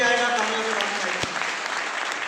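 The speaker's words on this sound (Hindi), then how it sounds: "ताली जोरदार बजाएं" An audience at a motivational business seminar bursts into steady, dense applause. It sounds fairly loud and close throughout, with a brief sustained tone fading out at the start.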